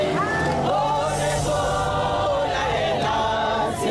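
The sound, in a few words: women chanting in protest outside a courtroom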